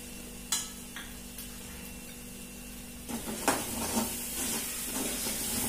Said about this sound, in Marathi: याला व्यवस्थित मिक्स करून घेऊन तेल सुटेपर्यंत हा मसाला परतून घ्यायचा